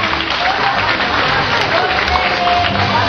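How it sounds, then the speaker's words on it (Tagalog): An audience applauding models at a fashion show, a dense continuous wash of clapping from a crowd that holds steady throughout. "Palakpak naman dyan, wala pa kayong kamay."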